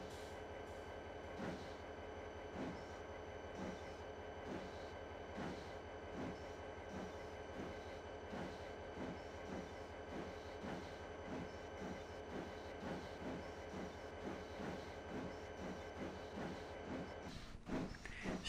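Steam engine Edward pulls coaches onto the main line with a continuous rolling train rumble and a regular clickety-clack of wheels over rail joints, steady and fairly distant, with no voices.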